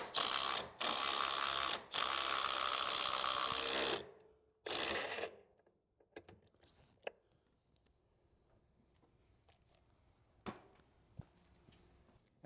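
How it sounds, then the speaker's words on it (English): Ratchet tightening a coilover bolt during a Chevrolet Sonic coilover install: loud, long bursts of rapid mechanical buzzing from a powered ratchet, then a quieter stretch of occasional clicks and clanks of the tool on the bolt. "lift up on this and tighten down the bolt"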